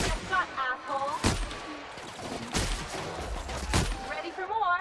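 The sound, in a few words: Mega Cannon gunfire in video game The Outer Worlds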